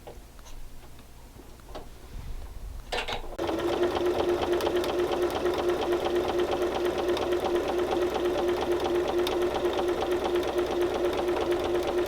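A home sewing machine stitches black and white quilt fabric strips with a quarter-inch foot, starting after a few seconds of quiet handling and then running in a steady, loud, fast chatter to the end.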